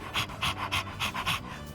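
A dog in Persona 3 Reload pants quickly and rhythmically, making about eight breathy huffs in under two seconds, close and fairly quiet, with nothing else over it.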